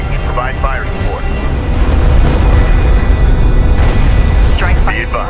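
Missile barrage explosions in the Homeworld: Deserts of Kharak video game, a dense, loud rumbling roar of blasts and booms under talk and radio chatter, swelling in the middle before easing off.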